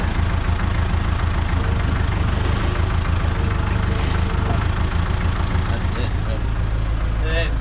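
A motocross dirt bike engine idles steadily near the microphone at a backyard track, a continuous low rumble without revving. Faint thin tones and chirps come in toward the end.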